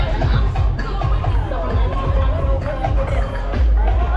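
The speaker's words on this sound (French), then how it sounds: "Continuez d'applaudir tous ceux qui arrivent." Large stadium crowd at the Stade de France finish of the Grand Paris half marathon, a dense continuous roar of cheering and clapping with babble, loud and steady throughout.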